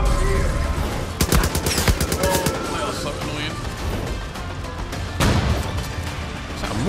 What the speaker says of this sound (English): Yep, mortars are definitely here.